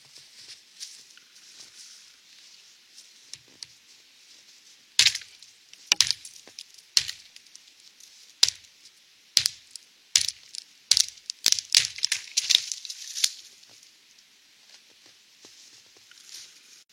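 Fir sprigs and dead branches being handled and laid for a shelter, with scattered sharp cracks and snaps clustering into a busier run of crisp clattering in the middle, over a steady high-pitched wash of outdoor background, no talk.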